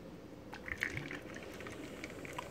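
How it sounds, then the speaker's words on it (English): Liquid poured while making a first coffee of the day, a steady soft splashing stream near the microphone with a few brighter clinks and drips over a low background rumble. "I'm gonna pour this in."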